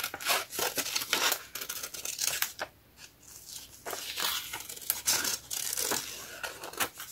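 Old planner paper being cut, with a steady run of close, scratchy cutting and tearing strokes broken by brief pauses, near and fairly loud with no talk.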